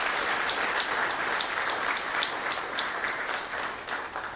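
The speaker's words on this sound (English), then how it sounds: "I would like to have a round of applause for those committee who served tirelessly to work on these things." A town meeting audience applauds a committee with dense, sustained clapping from many hands, heard fairly close and without any talking, easing off slightly toward the end.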